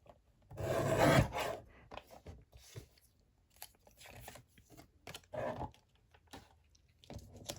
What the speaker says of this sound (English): I'm just going to cut out this branding strip here first